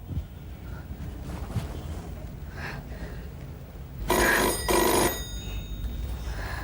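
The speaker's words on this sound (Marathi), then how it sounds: "बाईसाहेब फोन." A telephone bell rings indoors in two quick bursts, loud and close, over a quiet room hum with no talking.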